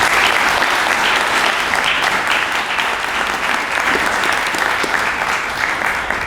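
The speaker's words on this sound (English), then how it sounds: "give them another round of applause" Sustained applause from an awards ceremony audience, a dense, steady wash of many hands clapping at close to constant loudness throughout, with no pauses and no speech rising above it.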